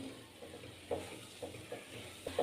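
A modak filling mixture sautéed and stirred in a pan gives a soft, faint sizzle with several light scraping stirs at irregular moments, close and without talk.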